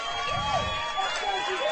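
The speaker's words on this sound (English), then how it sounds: "The crowd's going crazy." Crowd cheering at a men's flag football European Championship bronze match, France versus Israel, in Israel in 2019; steady mid-distance crowd noise with rising shouts and whistles, moderately loud throughout.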